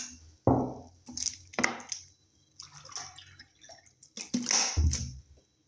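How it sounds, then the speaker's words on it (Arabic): A glass of water goes into a chickpea flour batter in a home kitchen, heard as a few close splashing pours and wet drips in short separate bursts, with no speech. "نبداو نديرو الماء الكاس الاول"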